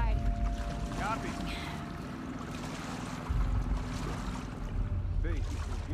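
Boat engine in The Last of Us Part II running steadily as a low continuous rumble with water and wind noise, under occasional talk.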